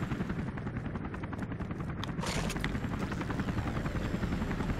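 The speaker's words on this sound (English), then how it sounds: "Now, we need to fight a battlecopter." Attack helicopter in 007 Agent Under Fire, a steady loud rotor drone with rapid gunfire bursts chattering over it throughout, sharper blasts near the middle.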